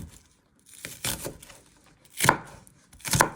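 A knife slices through an onion on a cutting board for a beef stir fry, producing several close, crisp cuts with a brief crunchy tearing quality, arriving in uneven strokes roughly a second apart, no voices.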